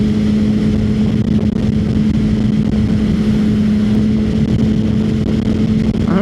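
Inline-four sportbike being ridden, a loud continuous engine whine with a steady tone and rushing wind noise, close and unbroken throughout.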